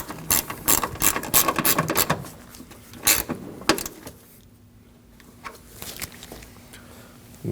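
Ratchet snugging bolts on a 2009-2014 Ford F-150 brake master cylinder: quick bursts of loud, close clicking pawl strokes over the first few seconds, then a few scattered lighter clicks and handling noises.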